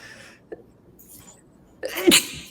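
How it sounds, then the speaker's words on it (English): A single loud sneeze near the end, preceded by a faint brief sniff and quiet room tone, during commentary on a Scrabble championship game. "I'm going to sneeze."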